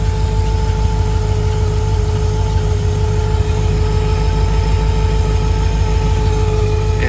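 The engine of a barn-find 1952 Cadillac runs steady and loud, with a constant high whir from a worn alternator riding over the low engine rumble, with no talking.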